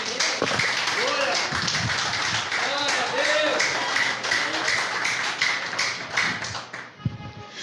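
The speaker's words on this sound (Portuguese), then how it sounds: "pode aplaudir que ele é digno" A church congregation claps and applauds steadily for several seconds, a dense patter of hands close by with a voice speaking over it.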